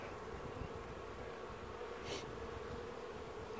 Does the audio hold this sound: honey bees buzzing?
yes